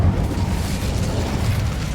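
A fire spell cast in the video game Hogwarts Legacy gives a loud, steady roaring burst of flame that rumbles heavily in the low end and holds for about two seconds, with no talking over it.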